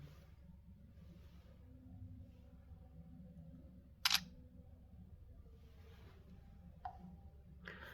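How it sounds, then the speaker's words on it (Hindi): Realme C51 phone front camera taking a picture, a single crisp shutter click standing out against quiet room ambience, followed later by a couple of fainter clicks. "फ्रंट पर एक मैं पिक्चर क्लिक कर लेता हूँ।"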